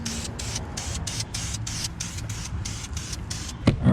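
A spray can paints a truck's masked brake caliper area, with about a dozen short, rhythmic hissing bursts in quick succession, close and fairly loud, ending with a brief knock.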